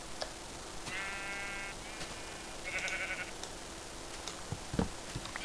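Sheep bleating in the video game Minecraft, a few short, wavering bleats spaced apart, fairly faint over a quiet game background with no talking.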